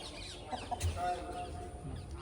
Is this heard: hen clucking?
yes